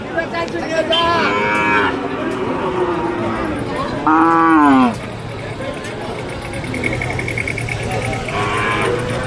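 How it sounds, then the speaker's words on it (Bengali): A Sahiwal bull calf at a busy roadside cattle market in Ambari, Dinajpur, gives one loud, close moo amid continuous crowd chatter and market noise. "এখানে একটি সাইওয়াল ষাঁড় বাছুর দেখা পাচ্ছি"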